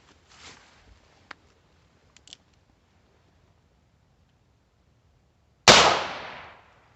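A single loud 9mm or .22 LR gunshot into a target jug rings out near the end, sharp and close with a decaying tail, preceded by faint clicks and handling noises.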